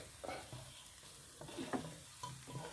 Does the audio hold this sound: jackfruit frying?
yes